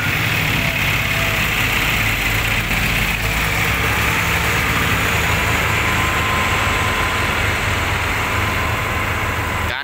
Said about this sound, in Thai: รถขุด 4คันครับ 10ล้ออีก 10กว่า โกเบสเค200 SM ทั้ง4 คันเลยครับ